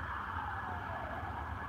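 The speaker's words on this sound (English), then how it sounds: "So sirens all the time." A police siren passes outside in a city neighborhood, its steady wailing tone gliding slowly downward in pitch over a low rumble of traffic, heard alone with no talk.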